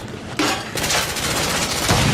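Rapid automatic gunfire from a machine gun laying down suppressing fire in a video game, a dense, loud, continuous rattle of shots with no talking.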